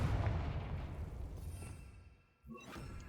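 A Confringo spell explosion in Hogwarts Legacy bursts out loud at once, then a broad rumbling roar fades over two seconds before a short, quieter crack and ringing follow.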